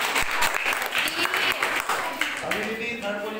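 Clapping from an audience, likely a school gathering, as a class four student receives her third-position prize; a brief, moderately loud patter of many hands with voices mixed in.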